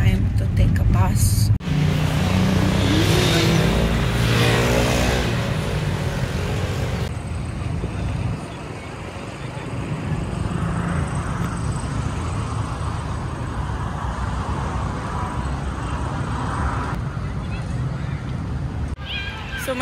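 Inside a Grab ride-hailing car riding through traffic in Malaysia on the way to Batu Caves, a steady loud road and engine rumble fills the cabin, with people talking over it.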